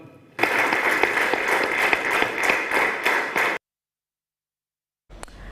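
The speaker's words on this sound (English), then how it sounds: "join me in giving a big round of applause to His Excellency and Uganda" An audience at the National Defense College in Bangladesh applauds a visiting head of state from Uganda: dense, even clapping for about three seconds that stops abruptly, followed by silence and a brief burst of sound at the end.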